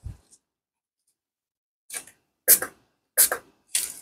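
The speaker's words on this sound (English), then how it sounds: "Give it a quick spray." Several short hissy bursts from a spray bottle over resin, a few in quick succession with brief pauses between, fairly close and moderately loud, with no talking.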